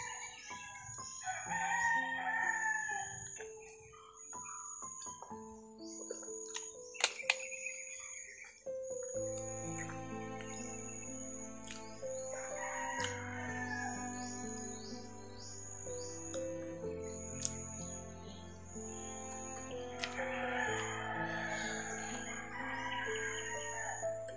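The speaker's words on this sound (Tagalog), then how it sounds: "Ihalas na manok." Wild junglefowl roosters crow repeatedly over a bed of birdsong and layered music, with shrill calls rising and breaking at intervals.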